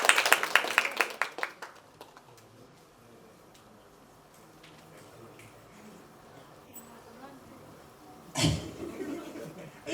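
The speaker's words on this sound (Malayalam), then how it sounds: "ആദ്യം ഒരു കൈയടി കൊടുക്കാം" A short burst of applause from a fan meet audience, loud at first and fading within about two seconds, followed by quiet room sounds and a later thump.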